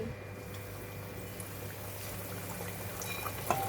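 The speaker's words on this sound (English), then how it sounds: "Continue to fry until it's golden brown and it's cooked." Flour-coated pork belly deep frying in hot oil gives a steady, dense bubbling sizzle that holds an even level throughout, with one small pop near the end.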